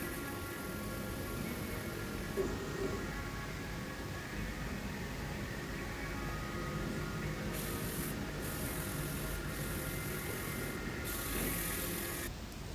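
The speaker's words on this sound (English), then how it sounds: "I've got like a Hoover type thing going on there, sucking the dust up." A vacuum sucks up wood dust in a continuous hiss and whoosh while a new wooden didgeridoo mouthpiece is shaped, with faint rasping under the steady airflow.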